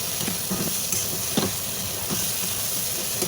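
Spice masala for singhi fish curry sizzling steadily in a pan, with a few soft spoon-scraping stirs breaking through the continuous frying hiss, no voices present.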